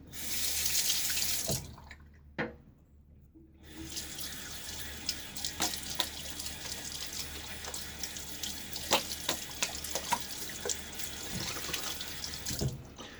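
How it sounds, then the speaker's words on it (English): Running tap water pours steadily into a sink for a partial rinse during a wet shave with a Fatip Grande safety razor and Gillette Nacet blade, with a brief gap before the flow resumes and splashes continuously. "That's kind of a partial rinse."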